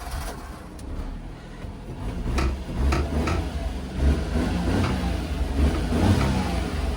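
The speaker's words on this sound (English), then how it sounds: "Let's give it a rev." A car engine on a used-car yard in Osaka, a five-speed with a swapped transmission, revs in a few moderate swells above a steady low idle, close by and with no talk.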